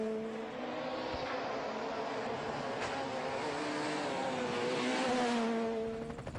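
A yellow Peugeot rally car drives a slippery stage at the Mecsek Rally in Hungary, its engine note rising and falling through gear changes as it passes at a distance, fairly faint throughout.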